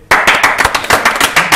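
A live improv podcast audience claps loudly and evenly, a dense burst of applause filling the whole short stretch with no pauses.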